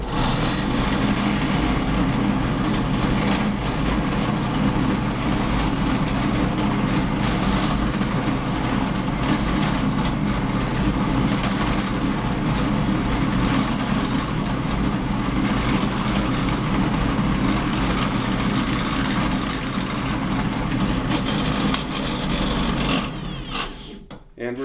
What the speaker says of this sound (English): I'll again start the drill press and take several rocking motions as I work my way down the mortise